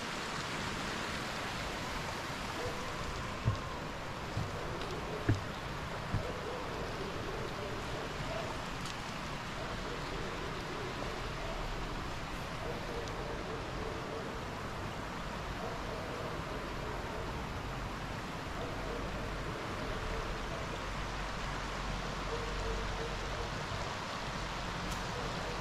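A small stream pours into a river near a parador in Adjuntas, Puerto Rico, making a steady, even rush of water that is moderately loud and unbroken, with a few faint knocks and no voices.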